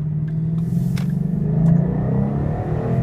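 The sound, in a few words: Mustang GT exhaust rumble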